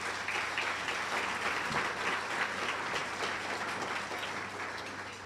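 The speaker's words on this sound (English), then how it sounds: "Can we have a round of applause for Class Act" An audience at a school district's State of the District event gives a full round of applause, a thick, even patter of clapping that holds for about five seconds and gradually thins.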